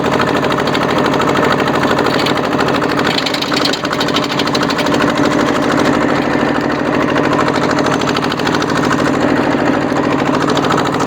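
A modified farm tractor engine runs steadily in first gear, loud and close, with a dense, continuous mechanical chatter and vibration that holds for the whole stretch with only a brief dip partway through.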